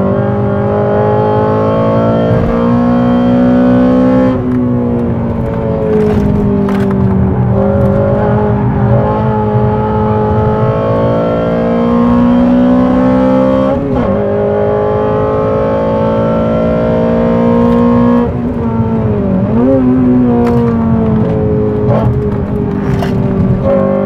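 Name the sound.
Honda Civic Type R engine on race track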